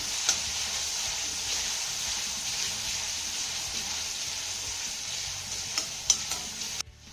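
Chopped tomato with curry leaves sautés in a pan, making a constant close sizzle with occasional light scraping stirs and a few sharper clicks near the end, without any speech.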